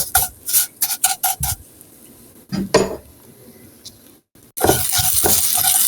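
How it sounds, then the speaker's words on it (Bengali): Vermicelli is stirred while lightly frying in a pan for jorda semai, with a run of rhythmic metal scrapes and clinks against the pan, a pause, then a steady close sizzle. "কিছুক্ষণ আমি সবগুলি একটু হালকা একটু নেড়ে চেড়ে ভেজে নেব"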